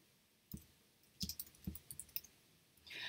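Several sharp computer mouse clicks while adding a new rental in BookingSync: a few single clicks and then a quick irregular cluster, close and fairly quiet, with no voice.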